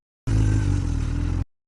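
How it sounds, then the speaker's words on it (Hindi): A motorcycle engine fires up and runs for about a second, a loud, close, steady mechanical drone that starts and stops abruptly. "अब देखो यू करी मैंने बाइक स्टार्ट और यू चले हम घर पे"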